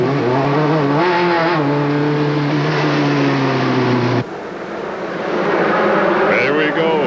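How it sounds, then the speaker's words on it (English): Race cars of a 1993 Olds Pro series street race in Des Moines accelerate away from the green flag, their engines droning loud and steady as a commentator talks over them, then easing before rising again. "Green flag is waving, and they're on their way to turn 1."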